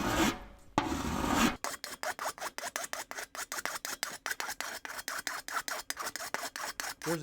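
A hand file rasps back and forth over a metal weld on a handmade fender, dozens of quick, evenly spaced strokes up close, after a brief louder scrape at the start.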